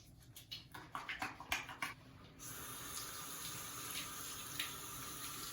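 A tap runs for hand washing with soap, a few splashy bursts at first and then a steady, even stream of water pouring into a sink, no voices.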